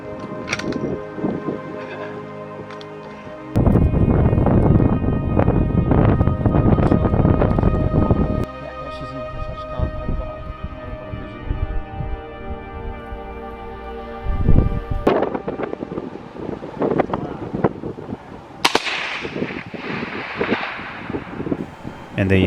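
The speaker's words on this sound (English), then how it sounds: "that wind had really picked up, gusting from 9 to 15 mile an hour" Strong gusting wind buffets the microphone outdoors during a hunt, loud bursts of rumbling noise that rise and fall in waves, with quieter stretches between gusts.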